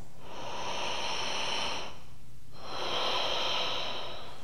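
Deep, slow breathing during a vinyasa yoga class: a long hissing exhale, a brief quiet gap, then another long airy breath, close and steady with no talking.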